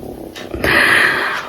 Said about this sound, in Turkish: kedi bağırıyor.